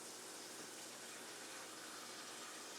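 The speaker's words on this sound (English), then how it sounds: "Run some hot water in that pan." Hot water runs from a kitchen tap into a pan, a steady faint gushing hiss that continues without a break.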